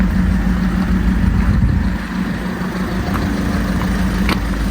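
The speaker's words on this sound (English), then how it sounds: "You can hear the turbo." A high-mileage VW Golf Mk6 engine idles steadily with turbo whine, a continuous close, loud low hum with a faint higher whistle on top and no talking.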